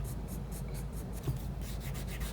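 Quick, rhythmic pencil crosshatch strokes scratching on drawing paper, about a dozen short faint rubs in steady succession, close and alone without any talk.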